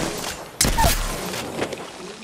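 Gunfire in an Apex Legends match: a sudden loud burst of shots erupts, followed by scattered lighter shots and game noise over a couple of seconds, with no talk over it.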